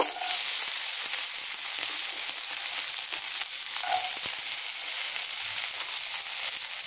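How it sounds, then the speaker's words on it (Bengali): Whole cumin seeds frying in white oil before long beans go in, a dense continuous hiss of sizzling oil at a steady level with faint occasional pops. "জিরেটা ভাজা হয়ে গেলে তারপর এখানে আমি দিয়ে দেব বরবটিগুলো"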